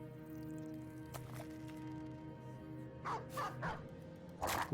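A dog in the Battle Brothers video game gives several faint barks in quick succession over a low, steady drone of game music and ambience, with a couple of brief sharp bursts earlier.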